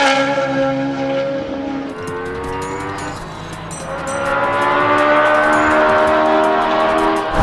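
A custom-built car engine runs loud and close, its steady harmonic drone falling then climbing again as the revs change, with rapid crackling pops in the upper range over the second half.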